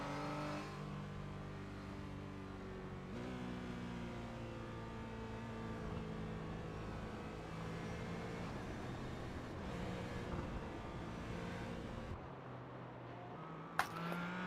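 Race cars circulate behind the safety car at Phillip Island, a continuous, steady engine drone with shifting gear tones as the field passes at reduced pace, heard at a moderate distance with a brief sharp click near the end.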